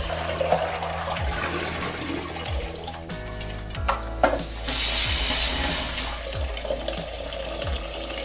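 Fish pieces for a curry are washed in water: continuous splashing, sloshing and running water close by, with repeated hand movements through the liquid and no talk.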